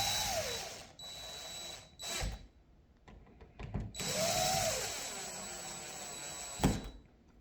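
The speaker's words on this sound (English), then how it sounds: "Now I'm going to use my screw gun and tighten them up a little bit" A cordless screw gun drives screws into a Kwikset front door latch in several short whirring bursts, close and fairly loud, separated by brief clicks and pauses.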